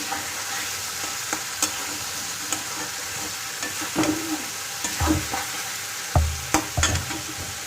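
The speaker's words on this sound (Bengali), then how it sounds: "মশলাটা সুন্দরভাবে কষানো হয়ে যাবে" A spice paste frying in a pan while being stirred, a steady sizzle running throughout with scattered scrapes and clinks of the spatula, close and loud, no voices.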